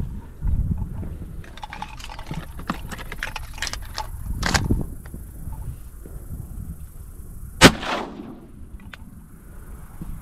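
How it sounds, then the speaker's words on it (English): A single sharp shotgun blast cracks out during teal duck hunting in a southeast Louisiana marsh, loud and close, following splashing and scattered rustling in water. "I got 3 in 1 shot."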